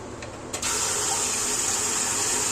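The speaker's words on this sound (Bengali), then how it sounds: "কেটে নিয়ে এভাবে জলের মধ্যে ভালো করে ধুয়ে নিতে হবে" Grated potatoes being washed in water: a loud, continuous rush of running water close by, steady throughout after a brief splash at the start, with no speech.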